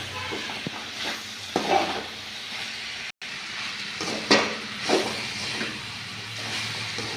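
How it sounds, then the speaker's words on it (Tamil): Snake gourd and peanuts are sautéed in a pan, making a continuous sizzle with several louder stirring scrapes. The sound breaks off for a moment partway through, and nobody speaks. "ஒரு 2 நிமிஷம் அல்லது ஒரு 3 நிமிஷம் நல்லா வதக்கி விடுங்கப்பா"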